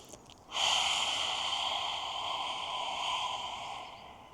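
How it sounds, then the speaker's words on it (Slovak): One long, forceful yoga breath: a short nasal inhale, then a loud, breathy exhale through the mouth with the tongue out, sustained for about four seconds before fading. "Nádych nosom a výdych pusou s vyplazeným jazykom."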